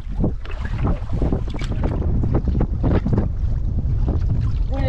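Wind buffets the microphone steadily outdoors on a lake in the Boundary Waters wilderness, a loud continuous rumbling roar with gusty swells, mixed with faint water and canoe sounds.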